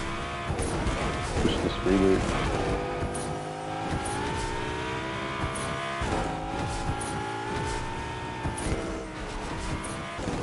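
Car engine in the video game Fortnite, a sustained droning hum with shifting pitch and occasional tire screech, steady throughout and mixed with other game sounds.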